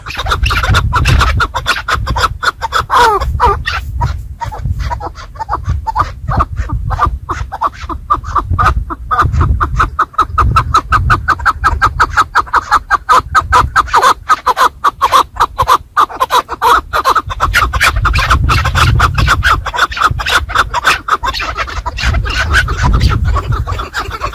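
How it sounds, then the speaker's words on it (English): Chukar partridge calling in mountain terrain: loud, rapid, rhythmic clucking chatter repeated steadily and close, over a rough, scratchy background with no talking. "The bird we are talking about today is the Chukar bird."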